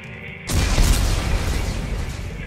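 Explosives detonating in the sci-fi horror game Dead Space 3: a sudden heavy boom at half a second rolls into a loud, sustained rumbling blast with crackling debris, filling the rest of the moment after a quieter electronic ambience.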